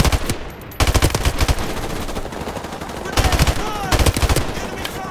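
Rapid automatic gunfire in Call of Duty: Modern Warfare Remastered rattles in repeated bursts, loud and close, with sharp cracks echoing throughout.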